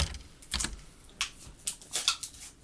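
Keyboard typing on a computer while entering a search on a website, a short burst of irregular clicky keystrokes, close and fairly quiet, with no talking.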